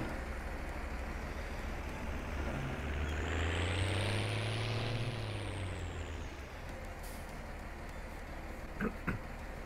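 A farm tractor approaches and passes close by on a farm, its engine drone rising, peaking, then falling away as it moves off, followed by a couple of faint clanks, with no talking.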